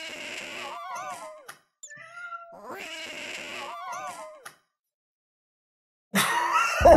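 A house cat wails in long, drawn-out yowling meows, two extended bouts separated by short pauses and a brief higher cry, then silence before loud screaming from a horror game takes over.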